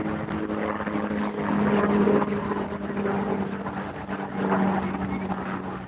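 Helicopter passing over a railside fan day in Cowan, Tennessee, its steady rotor and engine drone holding for several seconds and swelling slightly as it nears, with no talk.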